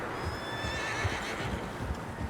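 Several horses whinny in a Red Dead Redemption 2 game scene, their high neighs rising over a dense, loud wash of hoof clip-clop and ambient rumble.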